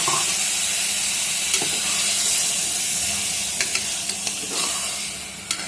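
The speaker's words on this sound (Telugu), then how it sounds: "ఇది కూడా ఫ్రై అవ్వాలండి, లేదంటే పచ్చివాసన వస్తుంది." Onion and chili paste frying for a drumstick curry, a steady dense sizzle filling the clip with a few sharp spoon clicks and stirring scrapes near the end, close and alone with no talking.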